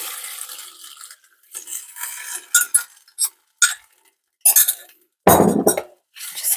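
A homemade curry spice mix is stirred in a bowl with a spoon, giving bursts of close, bright clinking and scraping separated by short silences.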